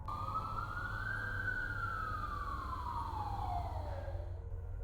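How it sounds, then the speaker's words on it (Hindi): A single distant ambulance siren wail rises and then slowly falls in pitch over a steady low rumble of traffic. "एम्बुलेंस की आवाज़ सुनाई दे रही थी।"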